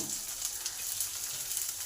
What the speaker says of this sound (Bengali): আদাটা আমার ভাজা হয়ে গেছে এই সময় পেঁয়াজ কুচানো আছে পেঁয়াজটা দিয়ে দিলাম